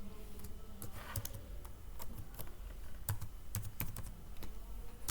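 Continuous keyboard typing on a computer while a chapter heading is entered, with steady irregular clicks and some sharper key strikes at a close distance, no speech.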